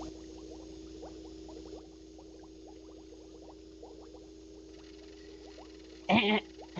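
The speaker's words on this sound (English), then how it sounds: "we're gonna turn the bubbling down for this" A steady bubbling sound effect with many small pops over a constant low hum, continuing throughout, then a brief louder burst near the end.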